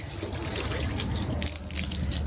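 Water is poured lightly over a Volkswagen MK6 GTI engine bay to rinse it, making a steady, close splashing hiss with no pauses or talking.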